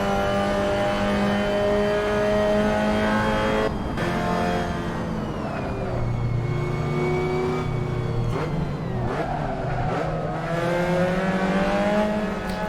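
Mazda V6 Cup race car engine in Assetto Corsa at Laguna Seca, revving loud and close with strong harmonic whine, rising and falling through gear changes and a brief lift near the middle, with no talk.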